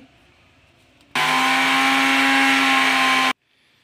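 A mixer grinder powders sesame seeds in one loud, steady motor whir that starts abruptly, holds for about two seconds and cuts off sharply, with quiet room sound before and after.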